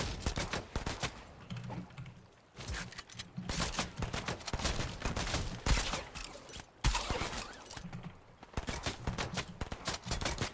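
Relentless automatic gunfire from an enemy in Fortnite, long rapid bursts of loud, sharp shots broken by brief pauses, continuing for about ten seconds.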